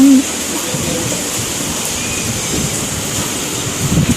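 Rain falls steadily at a mountain cafe at Phu Thap Boek, a dense, even hiss of drops with a low rumble beneath, close and continuous, with a brief voice at the very start.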